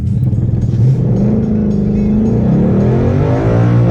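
An S550 Mustang's engine holds against an MSD 2-step launch control, a loud, close, popping and crackling rumble that stays steady for several seconds with rising and falling pitch.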